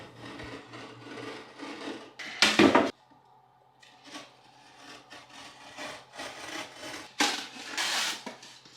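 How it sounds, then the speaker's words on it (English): Utility knife scoring and cutting sheetrock for a drywall patch, with scraping, rasping strokes throughout and two loud, harsh bursts of cutting, close up and without speech. "you can cut sheetrock with a utility knife"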